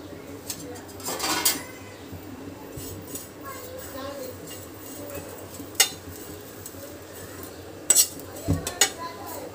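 Spices with black cardamom seeds dry roasting in a pan, heard as scattered metal clinks and scrapes of a utensil against cookware. A few sharper knocks stand out, with soft speech and quiet background between them.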